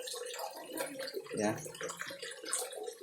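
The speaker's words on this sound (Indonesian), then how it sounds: "awalnya air mengalir cukup kencang" Water rushes fairly fast through a koi pond filter, a steady broadband wash running throughout while a voice talks briefly over it.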